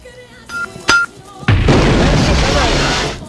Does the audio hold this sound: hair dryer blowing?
no